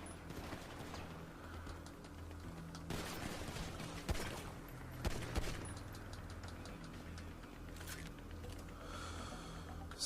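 Pistol gunshots in Grand Theft Auto Online ring out as a few sharp cracks through the middle, set against a steady bed of game ambience.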